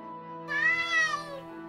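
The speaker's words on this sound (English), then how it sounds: "I don't know what that meow is about" A cat meows once in Fire Emblem: Radiant Dawn, a single drawn-out rising and falling meow of about half a second, set over a steady low musical drone from the game.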